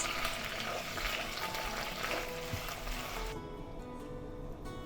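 Napolitan spaghetti with ketchup being stirred in a pan, a busy sizzle with scraping and clatter that drops away abruptly partway through, leaving a quieter hiss.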